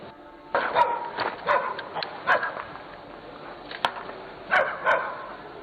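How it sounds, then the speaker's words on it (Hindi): Several dogs give sharp, scattered barks and yelps at night, some near and some farther off, in irregular bursts over a quiet background. "ये किसे देख के भौंक रहे हैं?"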